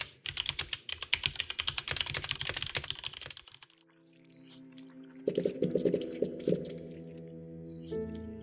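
Rapid clattering keystrokes on a keyboard in a scene from the video game Empires of the Undergrowth, a dense burst of typing for several seconds, then a lull and a second flurry mixed with a mechanical whirring tone.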